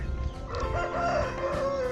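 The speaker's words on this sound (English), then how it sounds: "Ladies and gentlemen, meet the hen." A hen calls out beside a lake at sunrise, its drawn-out, rising vocalisations carrying loudly and close over a low background rumble for the full two seconds.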